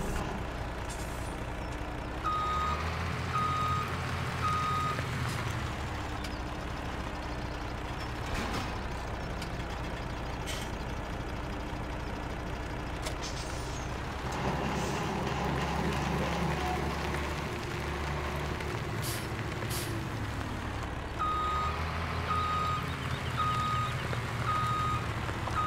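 In Farming Simulator 17, a truck's reversing alarm beeps in repeated bursts over a low engine rumble, with sharp hisses of air brakes releasing at intervals, fairly close and steady throughout.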